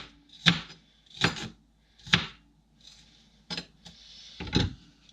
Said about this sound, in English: I'm gonna cut them up the old-fashioned way. Get some bigger pieces of onion in there.